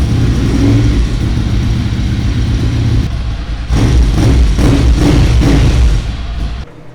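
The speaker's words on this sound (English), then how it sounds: "So this is the sound of the GPR with the baffles inside." A Ducati Monster 696 with a GPR exhaust, baffles fitted, idles and revs close by. A steady rumble is broken by a brief dip, then sharp throttle blips rise and fall before the engine cuts off abruptly. No voices.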